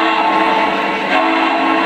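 A Lionel Legacy model train horn honks loudly and continuously, a steady dense tone held for the full stretch with a brief dip midway, no talking over it.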